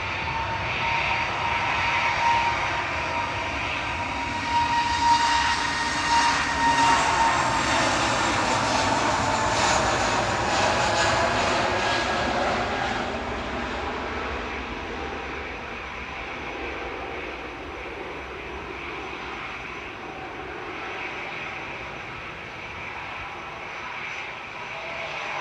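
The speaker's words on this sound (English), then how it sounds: "Scandinavian 542 to Copenhagen departing now" A Scandinavian Airlines A320neo, LN-RGM, departs Manchester Airport for Copenhagen. Its jet engine makes a steady, fairly loud rumbling roar that eases off and fades over the final stretch, with no talking.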